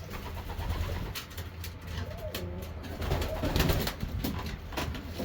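Racing pigeons in a loft give soft, low cooing calls alongside a steady low rumble of background noise, with a few brief clicks and rustles; no one speaks.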